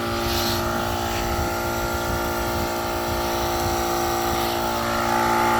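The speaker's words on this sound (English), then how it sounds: "So I'm going to air it up to about 20 psi" A Pep Boys portable air compressor clipped to a car battery hums and drones steadily while filling a Mickey Thompson ET Street R tire on a Coyote-swapped Fairmont, a close, continuous mechanical whir with no talk.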